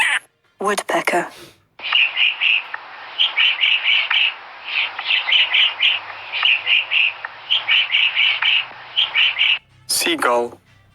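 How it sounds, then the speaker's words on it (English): A woodpecker calls in quick, sharp chirping bursts repeated steadily for several seconds, with a brief spoken word just before and after. "Woodpecker."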